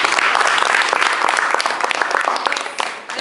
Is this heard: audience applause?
yes